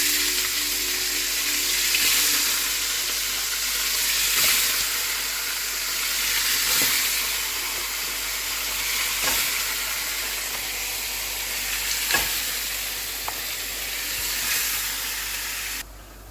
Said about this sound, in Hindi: आपने डायरेक्ट इसके अंदर ये जो गोश्त है इसको आपने डाल देना है। ये देखिए तेज़ हो गया है, राइट, और इसके अंदर हम ये गोश्त डाल देंगे बस।